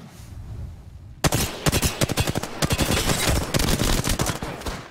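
Rapid automatic gunfire in the video game Apex Legends erupts after a quiet moment, loud dense bursts of shots crackling continuously with sharp individual reports in a chaotic firefight.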